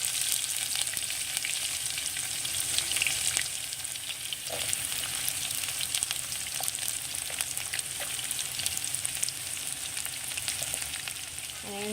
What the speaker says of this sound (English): Okay, so I'm adding in the onions right now.